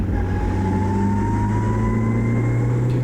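A historic Formula Ford race car accelerates on a wet track, its engine droning loud and close with a steadily rising pitch as it picks up speed, with no voices.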